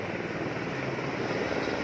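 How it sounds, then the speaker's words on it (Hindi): A helicopter flying down the valley from Ghangaria toward Govindghat in the Himalayan trekking country, a steady throbbing rotor and engine drone that holds at an even level for the whole stretch, with no talk. "और जो हेलीकॉप्टर है वो ये जा रहा"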